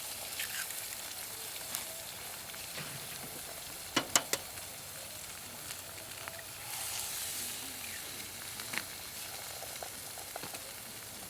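Free-range eggs frying in a pan outdoors for a full English breakfast at a carp fishery, giving a steady crackling sizzle with a few sharp pops and clicks.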